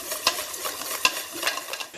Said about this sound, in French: Et je vais mélanger à nouveau donc ma vanille liquide dans ma préparation.